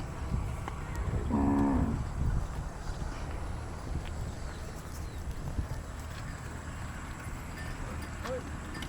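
A desi cow lets out one drawn-out moo at a village dairy farm where cows and calves are kept, then the yard goes on with a steady rustling, shuffling background and occasional small knocks.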